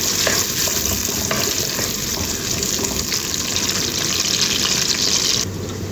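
Sliced onions sautéing in hot oil for a ridge gourd gravy, giving a steady, close sizzle and crackle that runs unbroken throughout, with a few scraping stirs and no talking.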